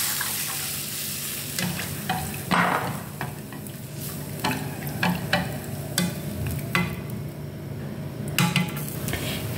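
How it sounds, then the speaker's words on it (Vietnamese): Pork liver stir-frying in a hot pan, a constant sizzle broken by repeated scrapes and clinks of a utensil stirring against the metal, close and fairly loud. "Khi gan xào đã săn lại"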